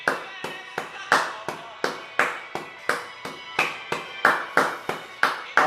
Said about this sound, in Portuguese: dá-lhe um aplauso, Senhor